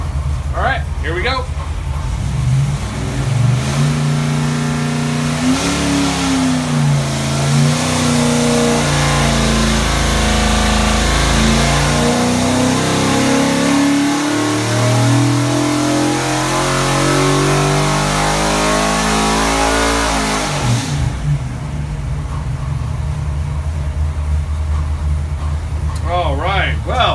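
A 408 Ford stroker V8 with AFR 205 CNC cylinder heads revs hard on a dyno, climbing in pitch through a long, loud pull before dropping off abruptly near the end.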